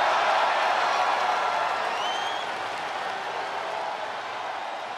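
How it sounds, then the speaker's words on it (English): A large crowd roars and applauds continuously in a WWE 2K24 wrestling video game, a dense wash of cheering that fades slightly toward the end. "Listen to that crowd!"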